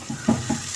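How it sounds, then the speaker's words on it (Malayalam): Small anchovy fish dropped into a pan of softened onions with turmeric, producing a quick sizzle and two or three soft scraping thumps in under a second. "ഇനി നമുക്ക് ഈ മീൻ ഇങ്ങോട്ട് എടുത്തിടാം."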